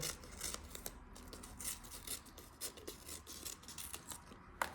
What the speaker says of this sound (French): C'est le couper sans que les ciseaux s'accrochent et les doigts s'accrochent.